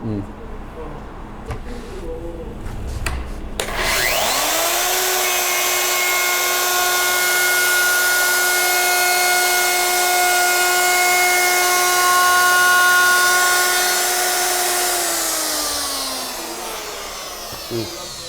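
Handheld wood router spinning up with a rising whine, then cutting a rounded edge into wood in a loud sustained scream for about ten seconds before winding down, after brief handling noises.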